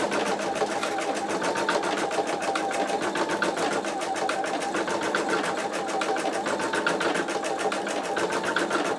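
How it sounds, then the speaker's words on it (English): An embroidery machine stitches a design held in an 8x8 inch magnetic hoop, a fast, even mechanical rattle of needle strokes running continuously and close. "we are going to stitch our design"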